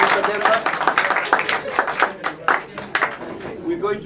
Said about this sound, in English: Round of applause for Mr. Dalmar.